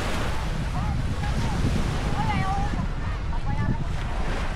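Sea surf at a beach in Santa Ana, Cagayan, a steady broad wash of waves mixed with wind buffeting the microphone, constant and fairly loud throughout.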